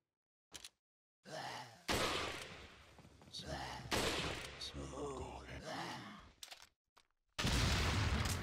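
Resident Evil 4 delivers sudden loud bursts of gunfire and blast-like booms separated by near-silent gaps, with grunts and gasps between them and a final sustained burst at the end.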